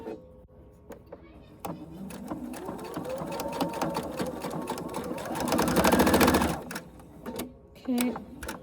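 A sewing machine back stitching a mini wallet runs in short bursts, then hums into a steady whirring run that peaks loudly before stopping, followed by a few brief clicks and one final short burst.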